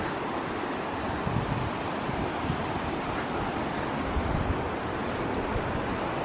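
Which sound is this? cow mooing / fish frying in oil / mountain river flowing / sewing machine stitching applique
mountain river flowing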